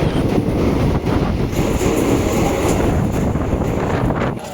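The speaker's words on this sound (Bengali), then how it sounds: "এই ট্রেনের প্রথম স্টপ দক্ষিণেশ্বরে" Kanchanjunga Express train running out of Sealdah toward Dakshineswar, heard from on board as a loud, steady rumble of wheels and carriage with wind buffeting the microphone, unbroken throughout.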